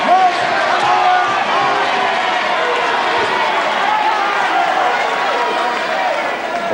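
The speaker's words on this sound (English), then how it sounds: "you hear some great crowd reaction from that" A wrestling crowd roaring and cheering as Owen Hart scores the equalizer over Moran in a UK tag match, a loud sustained mass of voices with a commentator talking over it.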